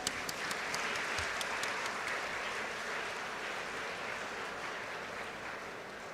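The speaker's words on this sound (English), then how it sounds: "Please give a big round of applause." At a university convocation ceremony, a big audience in a hall keeps up steady, even applause for several seconds, a few sharper individual claps standing out at the start before the sound settles into a uniform wash.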